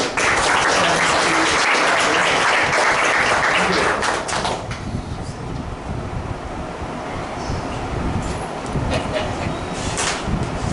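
Loud, dense applause from an audience at a motivational success-story talk. The clapping is strongest for the first four seconds, then continues slightly softer and steady until the end.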